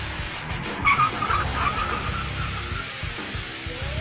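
BMW car accelerating hard and then braking during a braking-distance test among premium cars, a continuous rushing engine and road roar with a brief tire screech, heard alone.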